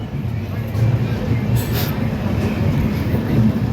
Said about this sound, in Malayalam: ഇവിടെ ഈ കാണുന്നത് എറണാകുളം ജംഗ്ഷൻ വേളാങ്കണ്ണി എക്സ്പ്രസ് ആവാനാണ് ചാൻസ്